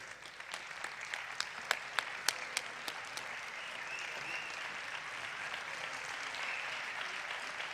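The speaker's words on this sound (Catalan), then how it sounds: "Que servisquen estos aplaudiments per agrair-vos" Audience applause at the closing ceremony of Tortosa's year as Catalan Capital of Culture: crisp individual claps stand out at the start, then merge into a steady, even wash of clapping that carries on for several seconds.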